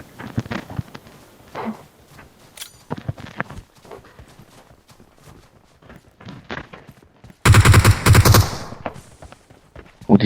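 Gunfire in the battle royale game PUBG, a dense, loud burst of rapid shots around the middle of the clip, with scattered fainter shots and footstep-like noises before and after.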